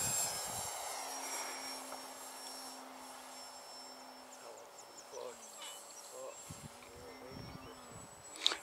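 A foam FT Spitfire radio-controlled model airplane, early version, flies at a club field, its small electric motor giving a steady thin whine that drifts and fades with distance, with brief voices and handling noises near the end.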